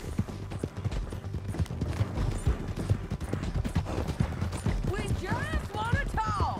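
Horse hooves clip-clop at a gallop in the Red Dead Redemption western game, a steady rhythmic pounding mixed with gunfire and creaking mechanisms, with voices speaking over it.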